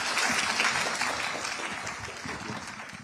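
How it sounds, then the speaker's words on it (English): Applause from a crowd, a dense steady patter of clapping that holds for a few seconds before easing slightly. "can we give our panelists a round of applause?"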